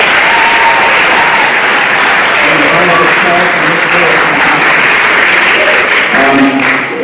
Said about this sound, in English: So one more round of applause to everybody.